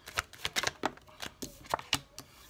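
Tarot cards are shuffled and drawn at close range, a quick run of crisp riffling snaps and papery flicks in uneven bursts, fairly quiet with no talking.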